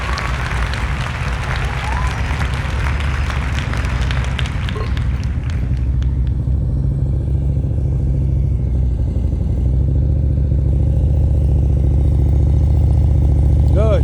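A motorcycle rolling at slow speed during a riding-skills practice session in Texas, its engine idling and puttering steadily under loud outdoor wind noise, with brief clattering early on and a constant low rumble throughout.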